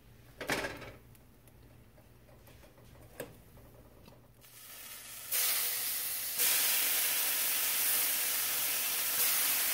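Bread halves laid into melted butter in a hot pan, a few soft clunks followed by a sudden loud, steady sizzle that swells as a second piece goes in, with no voices.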